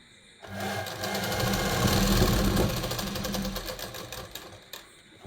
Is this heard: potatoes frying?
no